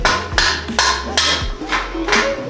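A hammer strikes a part, tapping it into place during an engine swap. Four loud, sharp, evenly spaced blows ring out up close over a steady low hum.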